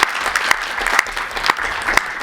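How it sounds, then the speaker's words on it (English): An audience at an AI summit session applauds the speakers, a close, dense burst of clapping with sharp individual claps standing out over roughly two seconds. "Round of applause for the speakers"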